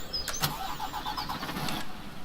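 A truck engine cranks and catches in Farming Simulator 17, a short starter whir followed by a steady mid-pitched idle, close and moderately loud with no talking.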